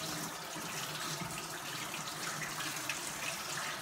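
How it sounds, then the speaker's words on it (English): Running tap water pours steadily over blender blades being rinsed in a sink, a continuous close splashing hiss with no talk. "you rinse it under the water straight away"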